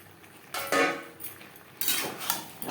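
Fried potatoes and pointed gourd tip into a spiced pan for a vegetarian dish, giving two bursts of clattering and scraping about a second apart, with a faint sizzle and light clinks between them.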